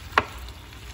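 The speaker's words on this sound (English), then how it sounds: "going to add just a tad of butter. We'll stir all this up." Steak and potato stir fry with butter gets a single quick stir, a brief sizzling scrape against a soft frying hiss, close and fairly quiet.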